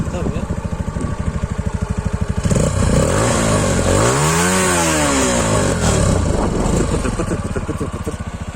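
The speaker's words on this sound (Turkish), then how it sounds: "Egzoz sesini de size dinleteyim. Salih gaz verir misin?" A Kuba TK-03 50cc motorcycle engine idling with a rapid putter, then revved hard several times so the exhaust rises and falls in pitch, loud and close.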